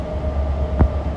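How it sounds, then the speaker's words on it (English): Inside a new 8-car, 3-door BART Orange Line train heading to Berryessa, a steady low rumble of the ride with a faint constant hum and one brief bump, no voices. "I'm on the new 8-car 3-door in the future Berryessa Train, the Orange Line B."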